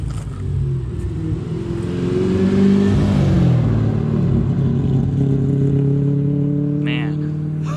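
A car at the Holley LS Fest revs its engine while driving around, a loud, steady, low rumble whose pitch climbs and falls through gear changes, with a brief higher whine near the end.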